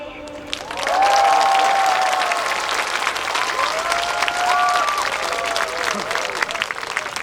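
Audience applause from a crowd at a Gunpo Citizens' Day outdoor stage after a performance, a dense steady clapping that swells in after a second and holds for several seconds, with faint background tones.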